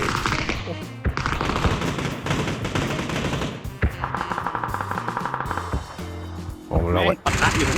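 Rapid automatic gunfire and scattered shots in the PUBG battle royale game, loud and dense throughout with brief pauses, mixed under someone talking.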